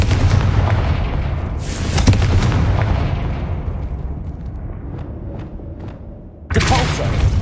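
A Confringo blasting curse explodes in Hogwarts Legacy, a loud, sharp burst over rumbling game sound, followed by a long fading tail and then a second loud blast near the end.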